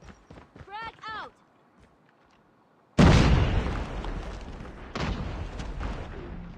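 A frag grenade in Call of Duty Mobile detonates with a sudden loud blast after a brief quiet stretch, followed by rumbling debris and a second smaller boom, with game voice lines before it.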